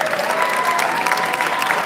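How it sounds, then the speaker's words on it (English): Audience applause at a 20th anniversary celebration event, a steady, full round of clapping from a crowd filling the whole short stretch. "Please give a warm round of applause for Marcus Mundy, our Executive Director."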